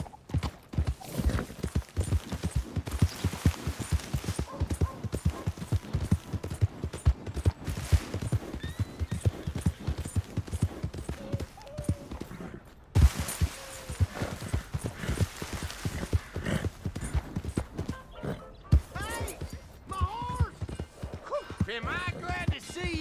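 Horse hooves clip-clopping steadily on the ground in Red Dead Redemption 2, a brisk rhythmic gait with occasional whinnies and other game sounds layered over the top.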